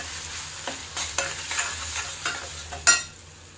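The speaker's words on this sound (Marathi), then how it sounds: "जी पेस्ट करून घेतलेली आहे ती आपल्याला यात परतून घ्यायची आहे।" Spinach paste sautéed in oil for palak bhaji, a soft steady sizzle broken by several scraping stir strokes, the last one loudest, with no voices.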